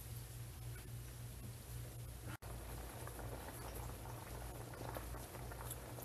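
A pot of chicken macaroni soup boils steadily, giving off a soft, even bubbling and gurgling at low volume.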